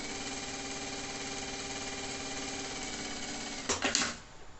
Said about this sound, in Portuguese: Vamos aqui passar uma costura.